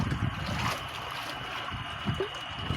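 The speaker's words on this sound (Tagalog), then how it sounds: "Malakas ang alon, pati hangin lumalakas." Choppy sea slaps and sloshes against a small fishing boat under gusting wind, a steady rushing wash with irregular splashes, moderately loud and with no talk.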